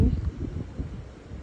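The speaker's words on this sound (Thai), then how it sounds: "ฟังเสียงธรรมชาติฟังเสียงน้ำเสียงลม เย็นฉ่ำชื่นหัวใจ" Gusty outdoor wind beside a small reservoir, blowing as a low, rough rumble across the microphone with uneven surges throughout; no distinct water sound stands out.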